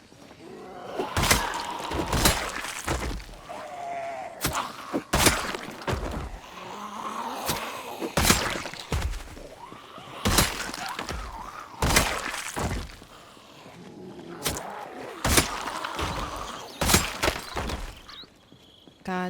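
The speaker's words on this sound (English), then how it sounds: "the spears are just like shattering to pieces in our hands." Spears breaking apart in a zombie survival video game, a series of sharp cracking and splintering impacts repeated every second or two, fairly loud, with no voices over them.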